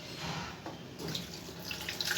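Poha (flattened rice) is rinsed in a strainer under steadily running tap water, a continuous close splashing and trickling hiss that holds without pause, with no talking.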